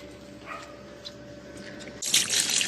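Water runs out of a raised dog bath basin, a steady low gush and trickle that swells suddenly louder and brighter near the end.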